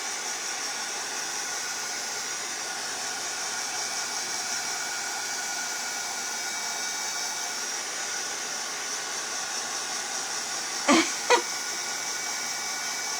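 Dryer blowing on craft pieces makes a steady, moderately loud whooshing hum that runs unbroken, with two brief clicks or knocks near the end.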